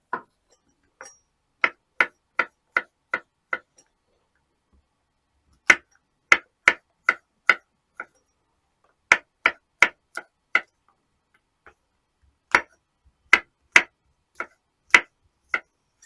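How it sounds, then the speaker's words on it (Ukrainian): Crisp knife strikes on a cutting board while mushrooms are halved and quartered, in quick bursts of four to six chops, separated by short pauses, close and clear. "Гриби нарізаю навпіл,"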